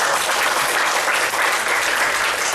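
A seated audience applauds steadily and densely throughout, without breaks, at the closing ceremony of a community health centre's re-accreditation in Nabire, Papua.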